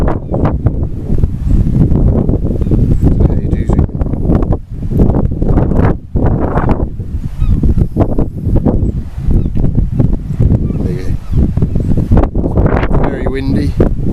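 Strong wind blows across a microphone on a coastal path near the Devil's Frying Pan on the Lizard Peninsula, loud gusty buffeting rumbles that surge and drop throughout, with faint voices underneath.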